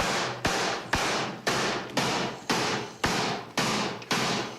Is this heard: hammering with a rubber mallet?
yes